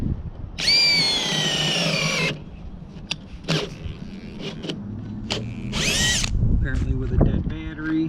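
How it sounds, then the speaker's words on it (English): A cordless power drill whirs in a couple of short bursts while countersinking screws for a trailer deck repair, interspersed with clicks, knocks and handling noises nearby. "got my drill."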